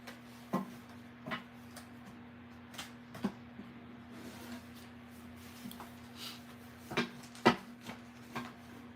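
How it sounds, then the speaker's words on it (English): Oracle cards shuffled close by in short soft riffles and taps, spaced irregularly over a faint steady hum, with no talking. "2 more shuffles, and then we're going to split the deck."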